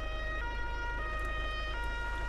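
Fire engine siren from Flughafen Feuerwehr Simulator 2013, a steady wailing tone with strong harmonics holding loud and constant throughout, over a low engine rumble.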